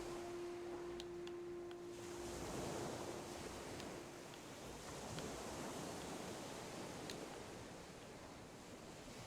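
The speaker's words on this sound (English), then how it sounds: "I'm trying to get it to be underwater so we don't hear the waves" Ocean waves in the video game Gothic 1 Remake make a quiet, steady surf wash with a wind-like hiss that rises and falls gently throughout.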